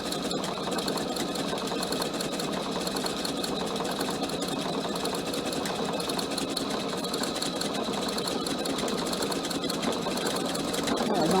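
A PFAFF sewing machine stitches a cushion cover in a continuous, even mechanical whir that holds steady for the whole stretch and swells slightly near the end.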